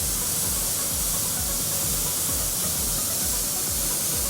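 A REFINE RS8901 spray gun atomizing paint gives a steady, loud broadband hiss that runs unbroken and alone, with a faint rhythmic low thumping underneath.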